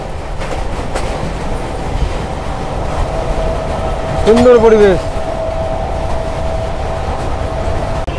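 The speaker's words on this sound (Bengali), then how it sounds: "একদম 100-এর স্পিডে ছুটে চলেছে ট্রেন বাঁকুড়া জংশনের পথে।" A new Purulia–Howrah passenger train runs near 100 km/h toward Bankura Junction, a steady loud rumble and clatter heard from aboard with a brief horn-like tone midway, a voice speaking briefly over it.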